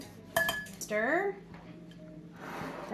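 Spoon stirring zucchini bread batter with cocoa in a mixing bowl, a few clinks and scrapes against the bowl, with a voice talking at moderate level.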